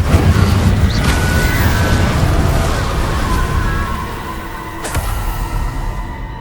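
The Incendio fire spell in a Harry Potter video game bursts into a loud, dense roar of flame, with a sharp crack near the end as the blaze fades slightly.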